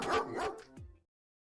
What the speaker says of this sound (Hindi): आवाज आपके पीछे से आ रही है, पीछे देखो कुत्ता है।